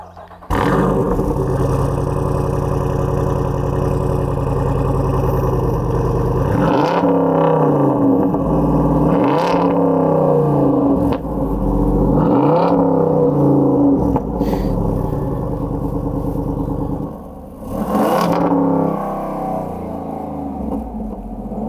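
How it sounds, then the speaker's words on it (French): A 2023 Jeep Wrangler Rubicon 392 V8 idling loud and close with its exhaust open, blipped through several rising revs, then settling into a quieter idle after the exhaust switches to silent mode. "on va partir le véhicule en mode ouvert, en mode 5 à 7, puis on va ensuite activer le mode silencieux."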